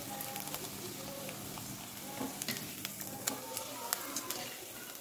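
Rice kurdai fry and puff up in hot oil with a dense, steady sizzle broken by scattered sharp crackles and pops, heard up close.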